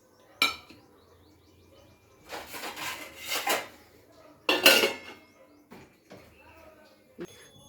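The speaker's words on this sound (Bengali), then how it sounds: "তো সসপ্যানটাকে আমি পাশের গ্যাসে বসিয়ে দিচ্ছি" A metal saucepan is set down on a gas stove with clattering, scraping knocks of cookware, some louder clanks among them. Birds chirp faintly in the background.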